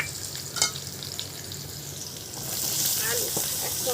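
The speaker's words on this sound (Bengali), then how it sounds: "আলু একসঙ্গে ভেজে নেব।" Potatoes, onion, green chilli and garlic frying together in hot oil, a close steady sizzle with a light clatter early on, swelling louder and denser toward the end.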